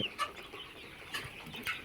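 Scattered, soft clucks from a group of chickens on a poultry farm sound at a distance over a quiet, steady hum.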